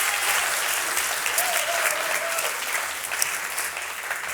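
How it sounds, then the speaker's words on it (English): Loud, dense clapping from a live audience at a season finale fills the room for the finalists, steady throughout with a thin tone drifting over it briefly. "Round of applause again, please, ladies and gents"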